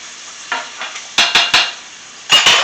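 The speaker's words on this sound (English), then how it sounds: "We're just really trying to fry up and brown the crust on it" Smoked sticky ribs frying to brown the crust: a steady hiss of hot oil, broken by several loud bursts of crackling sizzle in quick groups of three and two, close up, with no voices.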